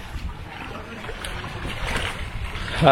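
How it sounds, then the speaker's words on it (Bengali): Low rumble of a boat moving on a Sundarbans river with wind and splashing, building slightly louder toward the end. "এখানে আমরা দেখলাম দূরে ওই একটা নৌকা চলে যাচ্ছে"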